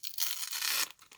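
Adhesive tape ripped off a parcel during unboxing, one harsh tearing rip of about half a second, close and fairly quiet, followed by a brief smaller crinkle.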